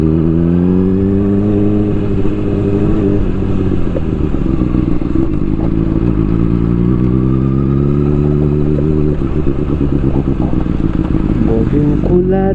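A motorcycle ridden over rough, bad roads in Nepal, its engine loud and close throughout with shifting revs and rattling clatter from the uneven surface.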